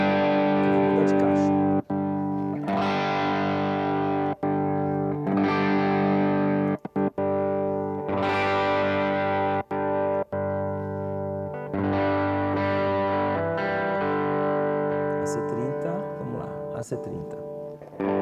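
Distorted electric guitar played through a pedal set into a digital preamp and amp emulation with a simulated 57 microphone, sustained chords and riffs with brief gaps and some short pick-scrape accents, loud and continuous with no talking.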